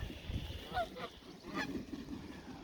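A goose honks by sunny lakeside water in the Okanagan in May. Two faint, short nasal honks come about a second apart over soft outdoor background noise.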